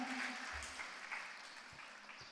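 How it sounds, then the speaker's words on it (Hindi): An audience applauding at a religious discourse gathering, a faint, distant patter of clapping that fades gradually, with a few low thumps. "एक बार जोरदार ताली बजा के आपका भी स्वागत करें।"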